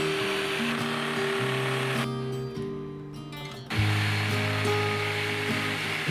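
A power saw cuts through a glued-up wooden piece meant as a custom tool for a pottery wheel, running steadily and loud nearby, pausing briefly partway, then resuming with a heavier, lower-pitched drone.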